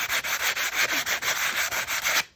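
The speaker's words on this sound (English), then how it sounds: "So then we rub a sanding block over it." A sanding block rubs back and forth over dried wood filler in quick, rhythmic strokes, about a dozen even scratchy passes, close and loud.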